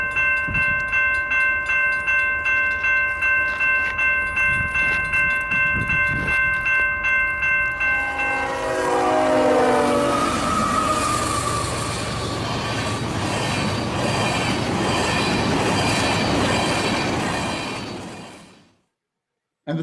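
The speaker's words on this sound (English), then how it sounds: "a train was approaching. A normal train pulling fuel," A freight train hauling large fuel tankers approaches, its horn sounding in repeated blasts before the loud rumble and squealing wheels swell as it draws near and passes, then fades out.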